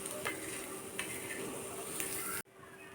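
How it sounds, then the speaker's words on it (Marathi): Chopped onion frying in a pan for a village-style spicy chicken curry gives a steady close sizzle with a few stirring scrapes, then cuts off sharply near the end, leaving quieter background. "तर इथे छान आपला असा कांदा भाजून झालेला आहे"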